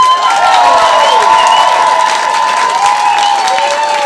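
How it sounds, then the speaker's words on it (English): A live show audience applauds and cheers loudly and steadily for a stage performer, with whistles and shouts rising above the sustained clapping. "A gargantuan round of applause, please, for Mr. B, the gentleman rhymer."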